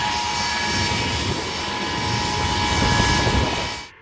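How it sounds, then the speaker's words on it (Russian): Engines of a Russian Emergencies Ministry Ilyushin Il-76 transport jet at the Grozny airport, a loud, steady roar with a high whine, close and unbroken until it cuts off at the end. "Самолет Ил-76 МЧС России прилетел и ждет погрузки."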